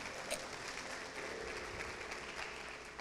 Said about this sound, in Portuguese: Então, pode aplaudir o Senhor.